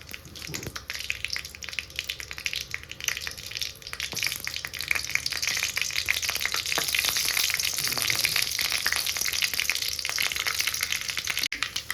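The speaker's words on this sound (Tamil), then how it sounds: "எண்ணெய் ஆனதுக்கப்புறம் கடுகு, வெந்தயம், கடலைப்பருப்பு, உளுந்தம்பருப்பு எல்லாம் சேர்த்து போட்டுக்கலாங்க" Mustard seeds, fenugreek, chana dal and urad dal sputter in hot oil for a mango tamarind kuzhambu: a steady, close sizzle peppered with dense, irregular crackles and pops that continue throughout.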